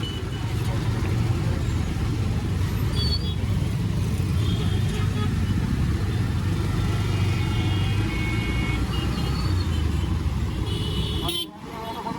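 Traffic roars along the NH-16 highway at a crossing, a dense, steady rumble of passing cars and trucks, with faint horn toots rising briefly above the wash of engine and tyre noise.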